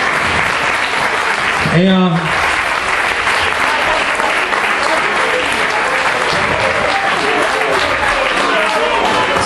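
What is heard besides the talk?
audience applause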